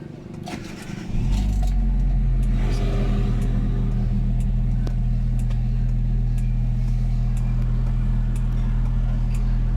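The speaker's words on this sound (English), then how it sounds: "we're gonna start the engine." A cold Hyundai Getz car engine cranks briefly, catches and settles into a steady, loud, close idle with a low rumbling drone that holds to the end.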